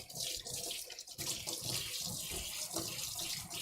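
A kitchen tap runs steadily as a utensil is given a quick rinse under the stream, with a continuous close splashing wash and no talking.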